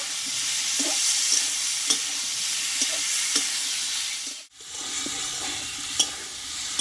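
Potato and papaya sauté in a pan for a Bengali vegetarian papaya dish, giving a steady close sizzle with occasional scraping stirs and a brief dip in the sound midway, with no talking.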